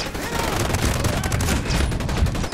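Rapid automatic gunfire in Ghost Recon Breakpoint rattles on continuously at close range. The stream of shots is dense and loud, with no talk over it.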